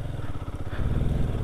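A motorcycle engine runs while the bike is ridden on a mountain road trip through Spiti Valley, a close, throaty chugging that rises slightly as the throttle opens.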